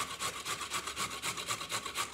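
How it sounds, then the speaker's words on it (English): An unpeeled carrot being grated by hand on a kitchen grater, a steady series of rhythmic rasping strokes about four per second, close and fairly quiet, with no talk. "So I just grate it up"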